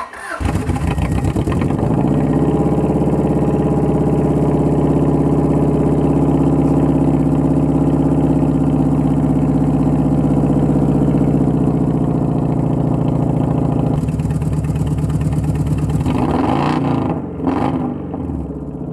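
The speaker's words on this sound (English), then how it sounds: "So I am driving a three-cylinder Subaru." A 1991 Subaru Legacy engine runs on three cylinders, with no compression on cylinder two. It drones steadily and loudly, close by and alone for nearly twenty seconds, with an uneven, lumpy pulse and a brief dip near the end.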